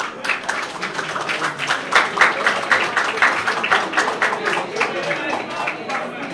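Students and school staff applauding a minister at the opening ceremony of a school computer lab, a dense, steady burst of many hands clapping close by that holds throughout with a murmuring crowd underneath.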